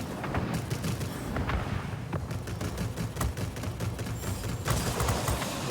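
Rapid bursts of aircraft gunfire in the World of Warplanes video game, flying the La-160 fighter, steady rattling volleys over a constant engine drone with occasional heavier booms.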